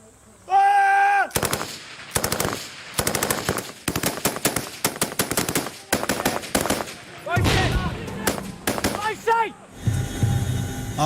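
Royal Marines Commandos firing rapid bursts of gunfire at Taliban in Afghanistan, loud and close, with repeated volleys of machine-gun and rifle shots, short pauses between bursts, and shouted commands over the shooting.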